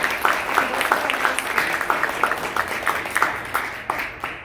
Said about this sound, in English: Let's give him a round of applause and welcome.